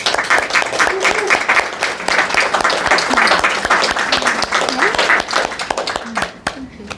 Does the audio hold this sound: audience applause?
yes